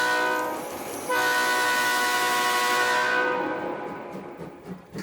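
A cartoon train sounds its horn, a loud sustained multi-tone blast over rolling rumble that fades out into softer clatter, with no talk.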